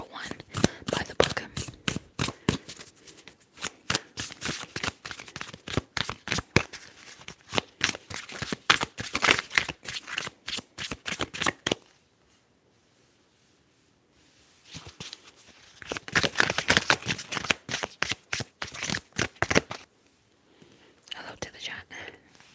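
Tarot cards are shuffled close up in rapid riffling bursts, with a short quiet gap before another run of shuffling and then a few softer card handling sounds.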